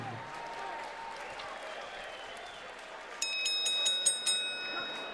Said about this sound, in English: let's cheer these 2 combatants on